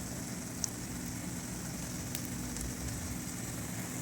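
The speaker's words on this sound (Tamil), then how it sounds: "ஸோ இது மாதிரி அப்படியே கொஞ்சம் ஃப்ரை ஆகட்டும்." Steady, soft sizzling of a potato and egg omelette frying in oil in a pan, a continuous even crackle with no voices.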